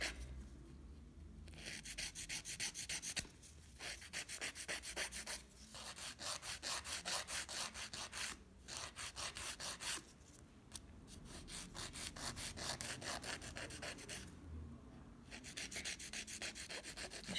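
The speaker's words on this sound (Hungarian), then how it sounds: "A forma reszeléshez én mindig egy gyengébb reszelőt használok, hogy ne karistolja annyira a körmöt" A gel nail being shaped with a soft, gentle nail file, close rapid back-and-forth rasping strokes in long runs broken by short pauses, with no talk.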